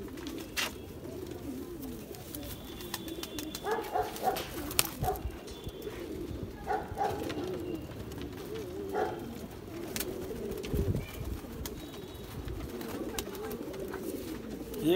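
A Kalsara Kalpotiya Kaldumba pigeon of the Rampur breed coos in low, rolling bursts, close and moderately loud, repeating over steady ambient noise with a few sharp clicks and faint voices.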